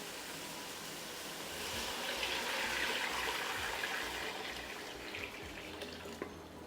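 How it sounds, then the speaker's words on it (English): Two quarts of chicken broth pour steadily into a soup pot for chicken tortilla soup, a continuous liquid rush that swells slightly in the middle and carries on without talk. "I'm going to go ahead and pour in the 2 quarts of chicken broth."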